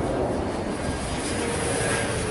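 Supermarine Spitfire Mk24 engine roaring loud and close, a dense, steady piston drone filling the whole short stretch with no voices.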